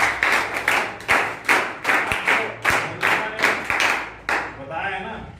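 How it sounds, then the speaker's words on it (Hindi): A classroom of students claps in unison for a classmate, about a dozen sharp rhythmic group claps in a steady beat, close and loud, then a brief scatter as it ends. "तालियां बजाओ"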